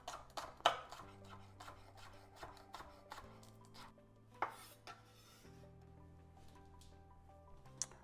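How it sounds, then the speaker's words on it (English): A knife slices through spring onion on a board in a home kitchen, quick crisp cuts in an uneven rhythm with a few sharper knocks, close and fairly quiet with no talking. "Spring onion, let's just get rid of the bottom and slice."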